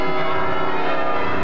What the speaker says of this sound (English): I've come to the top of Sandwich Bell Tower to hear them ring their bells.